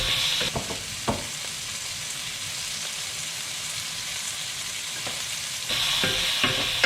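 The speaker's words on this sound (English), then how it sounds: "Keep giving that a bit of a stir around. Just going to cook that off for about a minute." Tomato, garlic and chili fry in a pan for crab linguine, a steady, close hiss of sizzling oil with soft scrapes and knocks as the mixture is stirred around.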